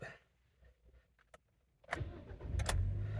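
A 2013 Hyundai Elantra with an ABS fault is started: a few faint clicks precede a brief starter crank, then the engine catches and settles into a steady, low idle close by.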